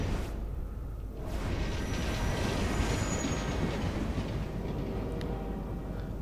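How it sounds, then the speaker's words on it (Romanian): A metro train in the Paris of Assassin's Creed Unity rumbles loudly past, its rolling roar and clattering wheels steady for several seconds with a faint squeal on top and no voices. "Îmi place chestia asta cu metrou."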